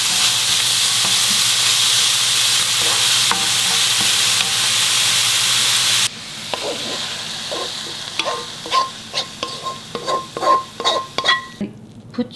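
Onions seasoned with salt stir-fried in a pan: a steady close sizzle of frying for about six seconds, then a quieter hiss broken by a run of clinking utensil scrapes and stirs against the pan.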